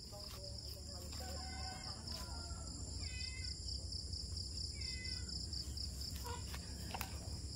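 A hen clucks in short repeated bursts outdoors, moderately near, over a constant background of chirping insects.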